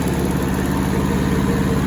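A small old rusty Hinomoto tractor engine runs at a steady idle-like throttle during mowing, a continuous low rumbling drone with a fast regular chug, close and fairly loud.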